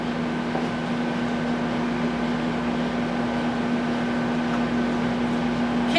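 A microwave oven runs steadily with a constant hum and whir, heating a snack ingredient in a home kitchen, continuous and fairly loud throughout with no talk.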